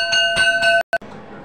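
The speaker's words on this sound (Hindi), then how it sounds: "लो घंटी बज गई," A school bell rings during a class, giving several quick, bright metallic rings in a row. It cuts off abruptly, then one short final ring follows before quiet room tone.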